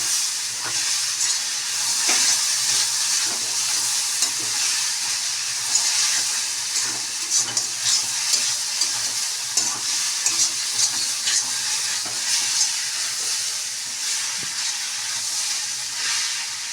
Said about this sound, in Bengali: এবার আমি একটু নাড়াচাড়া করবো, ভাজা ভাজা করবো।